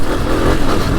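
A 2024 Honda CRF250F trail bike engine revs steadily and loudly up close for a second, a dense, even buzz with no pauses.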